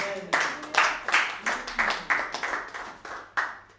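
A church congregation claps in a steady, rhythmic beat as it acclaims God, with roughly a dozen sharp, close hand claps and a few voices mixed in underneath.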